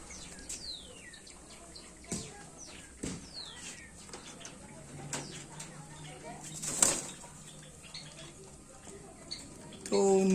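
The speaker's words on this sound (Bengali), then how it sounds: "চলো এই পায়রাটা ছাড়া যাক" Pigeon released from its new loft, giving a few sharp bursts of flapping wings amid scattered chirps of other birds and quiet outdoor ambience, with faint voice sounds in the background.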